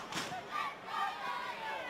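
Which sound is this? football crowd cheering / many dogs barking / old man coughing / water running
football crowd cheering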